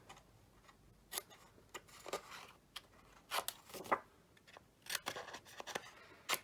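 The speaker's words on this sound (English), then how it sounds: "Now I'm going to just cut the corners so that they curve around nicely." Scissors snip the corners of small sticky pad booklets, rounding each one off. The cuts come as a run of quiet, crisp clicks, close by and unevenly spaced, with no talk over them.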